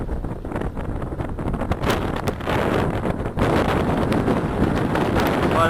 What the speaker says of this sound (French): Oublie qu'il y a du vent.